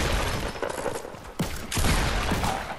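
Pump shotgun blasts in Fortnite, a couple of loud booming shots amid dense game noise and gunfire, sharp and close with no talk over them.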